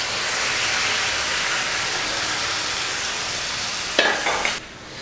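Mutton liver frying in a pan with onions and ginger garlic paste, a steady, close, even sizzle that holds for several seconds, then a brief clatter of stirring before it drops off sharply near the end.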